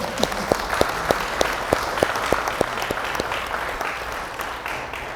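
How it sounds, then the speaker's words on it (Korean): Applause welcomes a visiting professor at a forum on Korean society, a room of hands clapping at moderate level with a few sharp, distinct claps standing out early before the sound thins and fades. "박수로 한번 쳐주세요."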